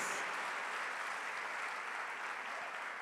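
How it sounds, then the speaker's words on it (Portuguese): A church congregation applauds during a worship service, producing a smooth, even wash of many hands clapping, steady and somewhat distant across the whole moment. "Dá uma salva de palmas para o Senhor"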